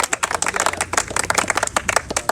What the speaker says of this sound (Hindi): अगर लाइन अच्छी लगी हो तो तालियां बजा दें।